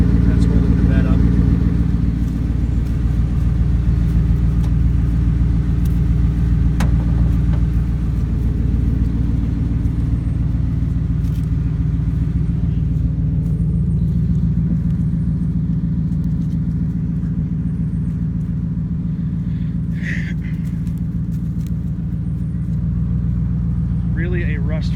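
A lifted 2006 Ford F-250 FX4 pickup idles and moves back and forth, its engine a steady, loud, low rumble close by that holds throughout, with faint voices underneath.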